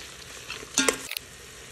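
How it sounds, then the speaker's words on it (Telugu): Potato and carrot pieces with fresh grated coconut and mint frying in a pan for vegetable pulav: a short burst of sizzling and spoon stirring, rising sharply for about half a second before settling back to a low hiss. "potato carrot little bit cook అయిన తర్వాత పచ్చి కొబ్బరి పుదీనా వేసి ఫ్రై చేసుకోవాలి"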